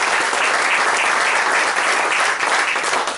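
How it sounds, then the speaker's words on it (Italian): Loud, close applause from a ceremony audience at a club's handover event, a thick continuous roar of many people clapping at a constant level throughout, with no voices standing out. "Se volete fare un applauso a tutte queste persone presenti."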